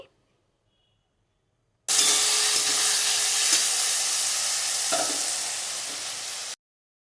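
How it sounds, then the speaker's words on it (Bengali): Ridge gourd and potato being stirred with salt, split green chillies and spices in a hot pan, giving a loud continuous sizzle and hiss for about five seconds with a few soft scrapes, then stopping abruptly. "মশলাগুলো দিয়ে একটু ভালো করে আমি সবজিটার সাথে মিশিয়ে নিচ্ছি"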